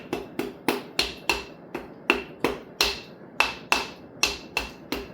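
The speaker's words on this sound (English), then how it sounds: "I'm tapping the compressor to square it up." Sharp taps land on a piston ring compressor to square it on an engine block during a Twin Cam rebuild. About a dozen crisp metallic knocks come in a steady, quick rhythm, close and clear with no talk.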